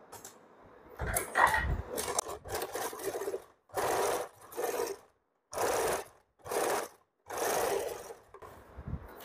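A sewing machine with a slightly faulty needle stitches fabric for an umbrella frock, puckering the seams, in several short rattling bursts separated by brief pauses, close and clear.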